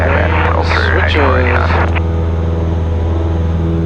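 A Cessna 172S at full takeoff power near Archerfield, Queensland, drones steadily as a loud propeller and engine hum heard from inside the cockpit. A pilot's voice talks over it throughout.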